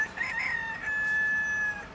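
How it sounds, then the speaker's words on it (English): A real rooster crows once at a campsite, a drawn-out call that rises and then holds. It sounds moderately close, with no talking over it. "That's not a sound effect, that's actually a freaking rooster."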